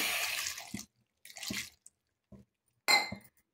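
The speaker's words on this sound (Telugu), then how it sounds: "కొద్దిగా వాటర్ పోసుకోవాలి." Water splashes into a pot of tomatoes set on the stove for boiling in a few separate short pours, close and clear, with silences between them.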